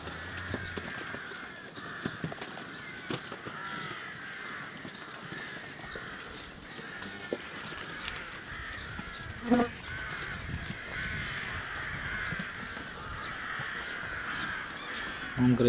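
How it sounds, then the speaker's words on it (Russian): Rooks cawing as they fly over a rural farmyard with cattle and sheep: scattered hoarse caws, fairly distant and faint, against a soft outdoor background, with someone talking at intervals. "Вон грачи летают."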